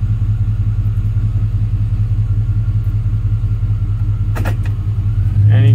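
A car engine, coupled to a 4L60E automatic transmission in gear, runs with a steady loud low rumble, then briefly rises near the end.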